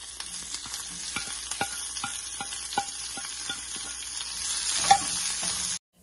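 Finely chopped shallots, garlic and curry leaves fry gently in coconut oil over low heat, giving a soft, steady sizzle broken by occasional light scrapes of a spoon as they are stirred slowly.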